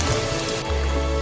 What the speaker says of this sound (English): This is the Camino in the rain.